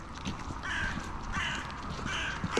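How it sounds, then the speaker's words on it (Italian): Several crows caw repeatedly outdoors at the Holmenkollen ski jump area, a close, loud series of harsh calls in irregular bursts over steady background noise. "E zitti corvi"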